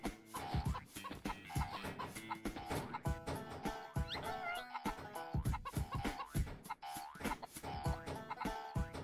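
Repeated chicken clucks from a video game, Mort The Chicken, pop up in quick, irregular bursts over a busy layer of background game music and effects.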